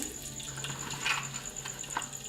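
Mustard seeds crackle and sizzle in hot oil in a kadhai, a steady frying hiss with scattered pops, close and fairly quiet, with no talk.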